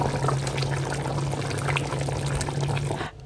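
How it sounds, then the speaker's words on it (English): Water poured steadily into a pot of Ghanaian chicken light soup, a loud continuous splashing pour that stops abruptly near the end. "it's now time for me to add the amount of water I want to add to the soup"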